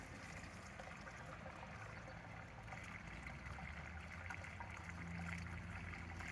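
Lacquer thinner trickles and dribbles through a small funnel steadily in a low, continuous stream, close by, with no talking.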